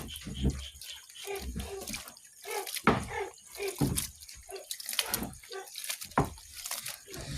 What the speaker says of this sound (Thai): เดี๋ยวล้างก่อน